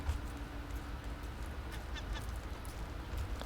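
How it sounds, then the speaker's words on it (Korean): Seagulls in the video game Raft, heard at sea by a raft, give a few faint, scattered squawks over a steady low background wash, with no talking. "어, 새가 왔다."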